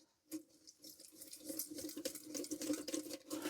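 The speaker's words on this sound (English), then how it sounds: "I'm also going to squirt a bit of brake cleaner in the tank so we can actually swill all that water out of there" Water with a little brake cleaner swilled out of the tank of an old Dietz hot blast lamp, a steady splashing, gurgling pour that starts abruptly and runs continuously, close by, with no talk.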